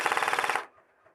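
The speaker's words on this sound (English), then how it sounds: "Hey Joe, you gonna give a suppressive fire while we clear?" A short burst of rapid automatic airsoft fire during a scripted game clearing a truck, about ten evenly spaced shots in half a second at moderate loudness, then a faint trailing rattle and near silence.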